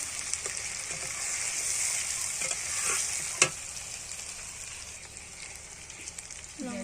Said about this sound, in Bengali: ভালো করে পেঁয়াজ রসুনগুলো ভেজে নেব এবার দিয়ে দিলাম টমেটো কুচি